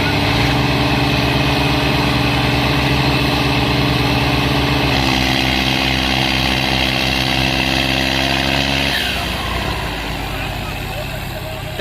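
Tractor engine running loud and close in a rural tractor pulling contest, a steady low throbbing drone that shifts in pitch midway before easing slightly toward the end.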